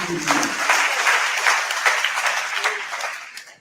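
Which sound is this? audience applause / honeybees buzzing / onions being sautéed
audience applause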